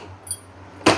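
Metal Allen keys from a Ford Performance tool kit by Motley Industries clink softly once, then give a sharp close jangle near the end, with no talk.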